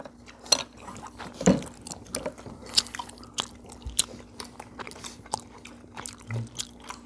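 Someone eats chewy tteokbokki rice cakes, giving soft close bites and wet chewing with scattered utensil clicks against dishes at an irregular pace.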